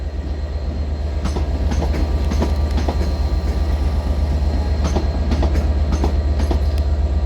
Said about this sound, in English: So departing here is 465029 on the front.